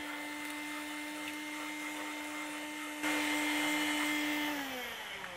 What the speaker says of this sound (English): Cookie crumbs seem to be no match for this vacuum